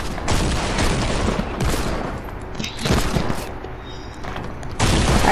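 Rapid bursts of gunfire in a multiplayer murder mystery video game, loud, dense repeated shots with brief lulls between volleys.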